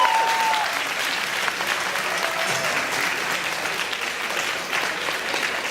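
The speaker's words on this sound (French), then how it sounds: "Applaudissez-le pour l'effort de français quand même, s'il vous plaît." Audience applause fills a convention panel hall at the Paris Manga & Sci-Fi Show: steady, dense clapping from many hands that holds at an even level throughout, with no voices rising above it.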